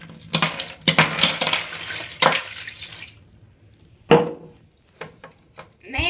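A bucket of ice water is dumped over a person's head for the ALS Ice Bucket Challenge: a loud splashing rush with clattering ice for a couple of seconds, then dripping and a few sharp splashes.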